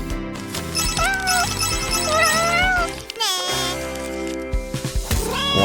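A cat meows several times in short, rising and falling cries over a busy background of music and sound, fairly close and clear.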